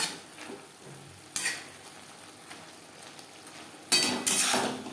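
Snake gourd stir-fried on a high gas flame, with a steady low sizzle broken by scraping stirs and a couple of louder bursts of frying and utensil contact.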